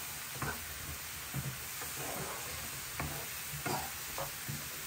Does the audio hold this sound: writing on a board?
no